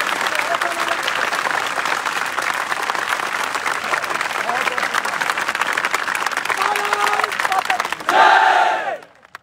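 A large crowd at an Agniveer army recruitment rally claps and cheers loudly and continuously, with whoops and shouting mixed in, swelling into a brief louder burst before cutting away.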